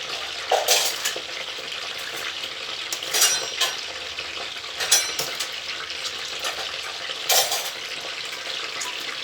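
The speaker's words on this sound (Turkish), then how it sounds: "Şu şekilde patlıcanlarımı bir sıra halinde tenceremin tabanına diziyorum." Eggplants are laid in a row on the base of a cooking pot, with soft clinks and scrapes of pan and utensil coming in a few sharp bursts over a low, steady background hiss.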